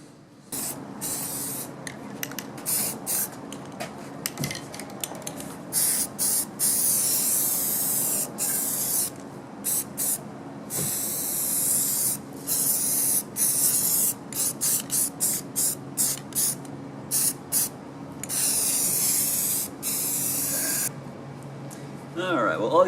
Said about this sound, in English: now we're going to spray this with some rust converting primer